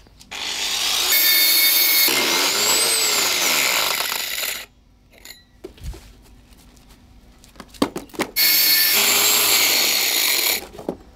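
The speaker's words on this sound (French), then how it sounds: "perce le trou de taille adaptée à l'aide d'une couronne de forage" A core drill bit bores a hole into a paving stone for a driveway, giving a loud grinding whir that runs close for several seconds. Quieter tapping and handling sounds follow before a second grinding run.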